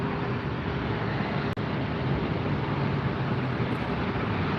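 A jet airliner at LAX airport, a steady, loud broadband roar that fills the whole stretch without a clear rise or fade, with a brief dropout partway through.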